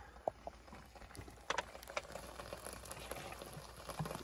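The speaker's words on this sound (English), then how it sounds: "So what we're gonna do now is just add a bit of water in there." Water added to spices simmering in a cooking pot outdoors, giving a soft bubbling sizzle with a few brief splashy pops over steady background noise.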